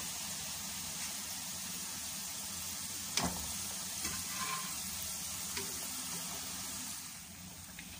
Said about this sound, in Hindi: ये लें जी पकोड़े जो हैं वो मैंने डाल दिए हैं कढ़ाई में फ्राई होने के लिए